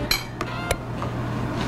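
A ladle scrapes and clinks against a pot and bowl while fish soup for bún cá is served, giving a few sharp metallic knocks over a low steady kitchen hum, with no talking.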